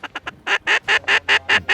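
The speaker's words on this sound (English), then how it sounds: "Another flock of ducks up out front." Flock of ducks quacking in a rapid series of about ten loud, nasal calls, close and clear, outdoors during a late-season waterfowl hunt in the Dakotas.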